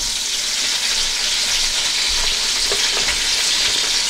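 Green chillies fry in hot oil, giving a loud, dense, continuous sizzle up close, with a few soft stirring knocks partway through.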